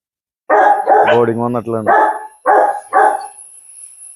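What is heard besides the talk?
puppy dog barking, native mixed breed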